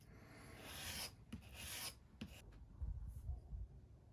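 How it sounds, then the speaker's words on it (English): A leather edge beveler is drawn across sandpaper in a few close, rasping strokes, with short pauses between passes. "If you're maintaining your edge beveler all the time, you shouldn't have to really do too many passes on the sandpaper."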